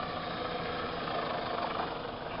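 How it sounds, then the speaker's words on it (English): A Nissan car engine runs steadily as the car drives along a road with its hood open, a continuous close, loud rumble and whir with no talk. "Driving with the hood open."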